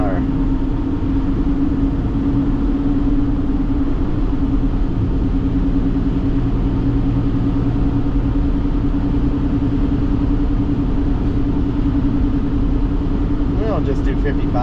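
Car cruising on a highway near Priest River, Idaho, with a steady engine and road rumble filling the cabin throughout, plus a constant low hum and occasional faint background speech.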